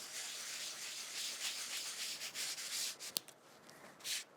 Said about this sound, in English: this Rub It Scrub It pad will actually refine those flakes, taking off the excess that you don't need